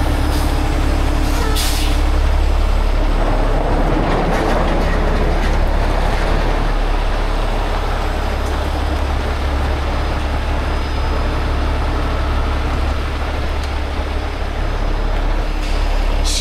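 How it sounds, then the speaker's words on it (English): Truck trailer air brakes are released during a heavy crane lift. A sharp pneumatic hiss bursts out early over a loud, steady diesel idle, and the engine keeps droning heavily throughout. "Gotta release the trailer brakes"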